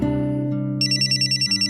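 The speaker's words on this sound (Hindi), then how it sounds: "तुम्हारा फोन बज रहा है।" A telephone rings with repeated electronic trilling tones, close and clear, over a low sustained background tone.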